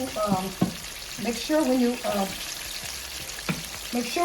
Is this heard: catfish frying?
yes